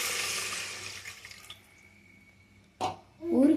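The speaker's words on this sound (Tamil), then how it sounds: "இப்போ நம்ம 1 கப் வாட்டர் ஆட் பண்ணிக்கலாம்" One cup of water poured into a pan for moong dal rava kichadi: a steady splashing pour that tapers off, then quiet before a couple of short clattering bursts.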